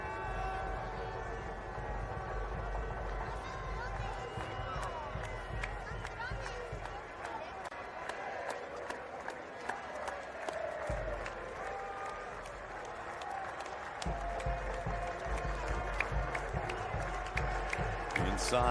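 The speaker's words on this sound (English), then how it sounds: "listen in here to this crowd" A large crowd fills a stadium before a Chile vs Samoa rugby match, with a continuous roar and scattered claps and shouts under a nearby commentator's speech.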